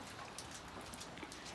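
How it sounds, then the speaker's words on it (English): Rain falling outside, a steady faint hiss of drops across the whole stretch without pauses, soft and distant. "Oh, it's raining."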